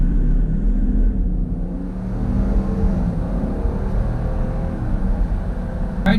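A 2019 Jeep Grand Cherokee Limited X accelerates, its engine giving a loud, steady rumble and rising drone heard from inside the cabin.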